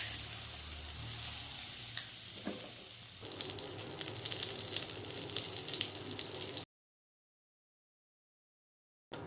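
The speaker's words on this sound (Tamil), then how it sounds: "கடாய் சூடானதும் எடுத்து வச்சிருக்கிற பட்டரை போட்டுக்கோங்க." Butter sizzles and fries in a hot kadai for paneer butter masala, a steady close crackling hiss that swells midway before cutting to silence.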